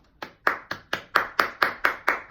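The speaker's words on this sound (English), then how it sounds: "If y'all can hear that, that's me clapping" Hands clapping in a steady rhythm, about nine sharp, close claps in quick succession, loud and alone.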